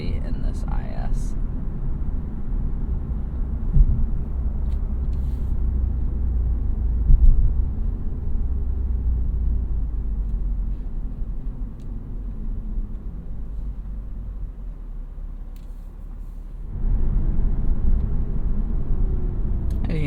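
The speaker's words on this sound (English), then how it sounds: "it does also do a little bit of downshift rev matching" Low, steady engine drone inside the cabin of a 311 hp 2021 Lexus IS 350 F-Sport driving in Sport Plus mode, easing off mid-clip before a sudden rise in revs near the end as a downshift rev-match blips the engine.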